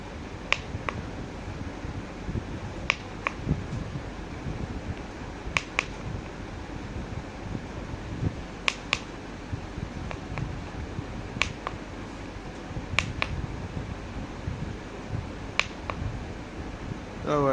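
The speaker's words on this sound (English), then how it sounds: "So I press the right key right now. You can hear the tick sound" Crisp, faint key ticks from a device played for a Für Elise test, sparse single and paired clicks scattered over a steady low background hum, close but quiet.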